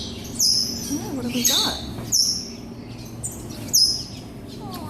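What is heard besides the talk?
birds chirping in a pet store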